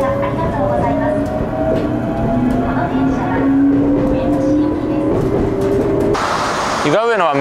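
A train rumbles along steadily with a rising wheel whine, ending in a loud warbling horn or chime near the end, arriving at Iga-Ueno, Japan.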